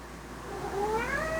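Garfield, a loud pet cat, lets out a single drawn-out rising meow close by at dinner time, alone over a low steady household hum.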